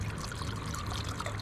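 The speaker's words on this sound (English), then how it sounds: "Look like a healthy pour from here" Michter's bourbon pours in a steady, continuous trickle into a glass on a boat on the water, close and moderately loud, with no talking over it.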